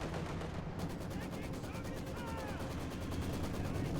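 Mortar and artillery fire in the World War II strategy game Company of Heroes 2: a dense, continuous rumble of distant blasts and gunfire under a constant battlefield din, with no distinct single shots.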